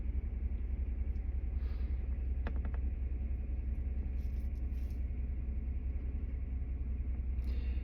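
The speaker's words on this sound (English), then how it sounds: "Oh, getting a vibration. It's not running smooth at all." A 2017 Ford F150 with the 3.5 V6 twin-turbo EcoBoost engine idles roughly, giving a steady low rumble with a faint vibrating rattle and a few brief clicks partway through, heard close and without talk.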